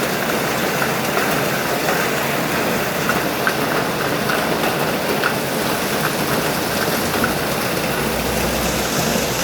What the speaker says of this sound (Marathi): पाऊस असाच चालू राहणार आहे